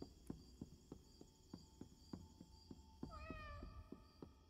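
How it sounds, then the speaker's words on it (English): A cat meows loudly and repeatedly in the Indigo Park video game, each cry sharp and evenly spaced against a faint buzzing, cricket-like ambience, with a higher tonal sound rising partway through and nobody speaking. "That cat is so loud."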